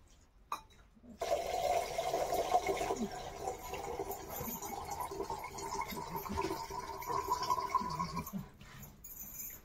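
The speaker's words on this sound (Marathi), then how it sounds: "मोटर चालू करावं लागेल धुणे धुवायला." Water pump motor running to supply water for washing clothes at home, a steady continuous whirring with water rushing and gurgling, fairly close, starting abruptly after a second and running until near the end.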